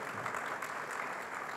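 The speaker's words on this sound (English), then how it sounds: "Please applaud once again because it was very inspiring." An audience in a conference hall at a space agency plenary session applauds with steady, even clapping that sounds fairly soft and continues throughout.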